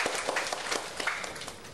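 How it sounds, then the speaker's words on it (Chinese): An audience at a classroom lecture event claps, a brief, fairly faint patter of many hands with no voices over it. "我们以热烈的掌声邀请他"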